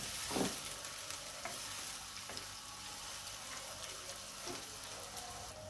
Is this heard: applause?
no